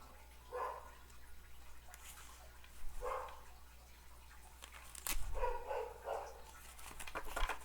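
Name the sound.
dogs barking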